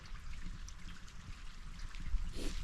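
A small stream of water runs down past an island wild campsite, a steady close trickle and gurgle with a slight swell near the end.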